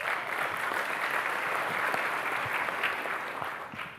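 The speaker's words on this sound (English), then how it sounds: "Give yourselves a round of applause for a great event." An audience at an annual meeting event claps together in sustained, even applause, a dense wash of hand claps at moderate distance with no voices on top.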